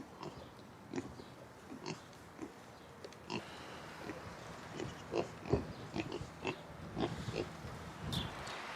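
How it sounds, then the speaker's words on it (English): Pigs grunt and oink in a pen, with short irregular snorts and grunts recurring every second or so at moderate volume, some closer and louder than others. "So, really happy with these pigs."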